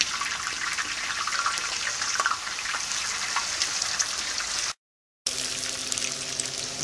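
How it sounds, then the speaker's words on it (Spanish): Pork meat dropped into very hot lard in a disc pan for carnitas, a loud dense sizzling and crackling that fills the sound, briefly cutting out before resuming with a softer hiss. "ya está la manteca bien caliente. Vamos a echar la carne."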